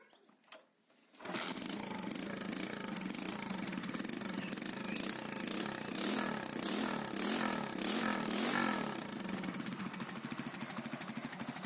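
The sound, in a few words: Spark 125 moped engine running after piston replacement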